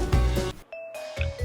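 A notification bell chime, a clear ringing ding-dong with sustained tones, closely following an earlier musical sound.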